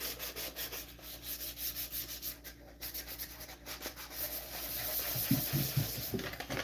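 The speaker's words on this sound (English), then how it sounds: "The Scotch-Brite acts as like a multiple thousand grit sandpaper." A Scotch-Brite pad rubs across a wooden box that is being finished, giving a steady scratchy swishing that runs close and continuous for the whole stretch, with no talking.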